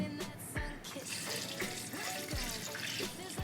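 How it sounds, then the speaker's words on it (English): Water pours into a blender holding soaked sea moss, a continuous splashing gush with a few clunks, fairly soft and close. "Add water."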